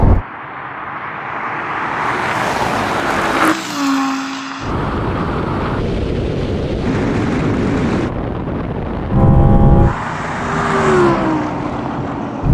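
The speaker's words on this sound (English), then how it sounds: "Oh, RS6 is so quick off the line." Audi performance cars, including an RS6, R8, RS3, RS5, RSQ8 and RS e-tron GT, launch hard in a drag race with loud, roaring bursts of acceleration. The engine notes rise and shift through gears in several distinct surges, close and forceful.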